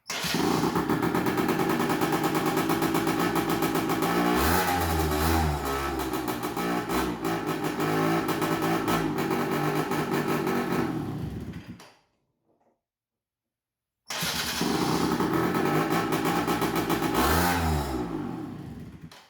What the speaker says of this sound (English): as soon as I rev it, it dies down